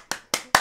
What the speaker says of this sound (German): einmal ein Applaus für Jordan